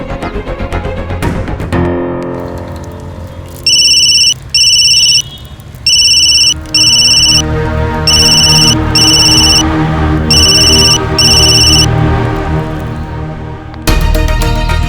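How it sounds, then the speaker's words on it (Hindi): A telephone rings in repeated paired bursts of electronic trills over background music, clear and loud, several rings in a steady rhythm. "सीनियर मिस बोस तो मेरा फोन जरूर उठाएंगे।"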